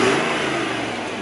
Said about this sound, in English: Give the car a little rev.